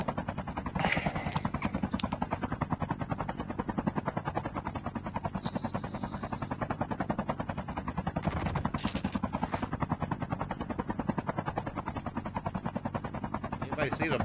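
Rapid sustained automatic gunfire in a helicopter-based video game, a steady dense stream of shots close and loud throughout, with occasional brief whooshes and electronic tones over it.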